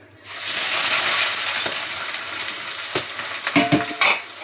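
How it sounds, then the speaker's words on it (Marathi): Onion frying in hot oil in a kadhai, a loud sizzle that bursts in at once and keeps hissing steadily, with scraping stirs and a few knocks toward the end, no talk. "हा जो कांदा आहेत ना हा पण मी तेलामध्ये असं तळून घेणार आहे"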